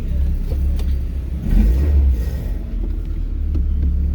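A VW Citi Golf engine runs close by with a loud, steady low rumble that swells briefly mid-way as if revved, then settles back to a throbbing idle.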